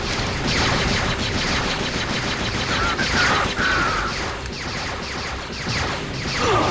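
Dense, continuous heavy gunfire in the Jedi Outcast game, a loud barrage of overlapping shots and crashing impacts with whooshing blaster-like streaks, sustained throughout with no speech.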